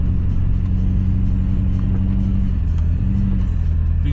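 A heavy plow truck's engine rumbles steadily and loudly while plowing snow, with a deep, constant low drone and no talk.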